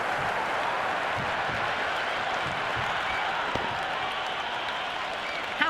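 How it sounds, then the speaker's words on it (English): Cricket crowd in a Pakistan versus England match cheering and clapping after a six, a broad, steady roar of applause from a large stadium audience, fairly distant and sustained. "The crowd is electric right now."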